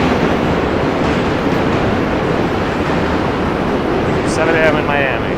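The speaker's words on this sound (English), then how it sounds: "A train is going over the Manhattan Bridge." A Q subway train crossing the Manhattan Bridge in New York City, heard as a steady, loud rumble and roar of rail cars that fills the whole stretch, with a brief high squeal toward the end.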